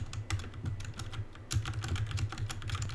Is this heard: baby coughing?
no